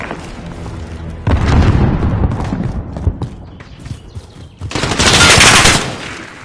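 Heavy machine-gun fire in a Call of Duty: Modern Warfare battle, loud rapid bursts with booming impacts, a sustained barrage midway and another intense volley near the end, close and dominant with little talk.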